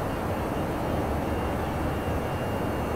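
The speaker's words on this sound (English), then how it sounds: "Can you hear the planes well enough?" Airbus A319 jet engines in the X-Plane 11 flight simulator at cruise altitude, a steady broad rumbling roar that holds constant throughout with no voices over it.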